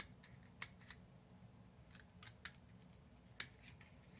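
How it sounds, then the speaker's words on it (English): A few sharp, quiet snips of small scissors cutting paper on a box, spaced irregularly over a low background rumble, with no talking. "you only want to cut the paper, not the box."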